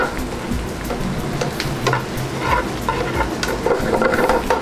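Garlic and onions fry in a pan for sausage and peppers, a steady close sizzle and crackle with scattered pops and stirring scrapes throughout.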